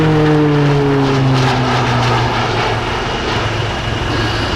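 Loud Pilatus PC-9M turboprop trainer of the Slovenian Air Force flying an aerobatic display at an airshow, engine and propeller drone shifting pitch steadily downward as it pulls through a vertical manoeuvre, sustained and close with no talking.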